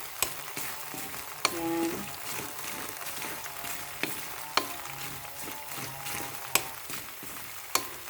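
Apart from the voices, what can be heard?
grated coconut frying in pan to make coconut oil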